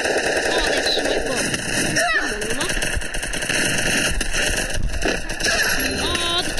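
Rapid Thompson submachine gun bursts crackle through a frantic Free Fire firefight, dense repeated shots layered under excited voices talking throughout.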